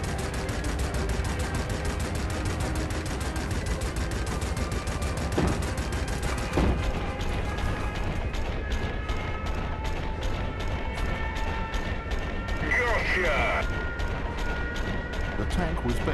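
12.7mm DShK anti-aircraft machine gun on a T-44 tank in the World of Tanks augmented reality app: dense, continuous rapid-fire rattle with a few heavier booms, loud and sustained throughout.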